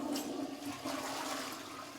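A newly installed toilet flushes for the first time, a steady rushing and gurgling of water that continues without pause and sounds close by.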